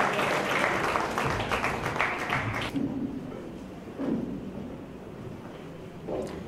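Audience at a school annual day applauds prize winners, a dense burst of clapping that fades after a few seconds into scattered claps and murmuring.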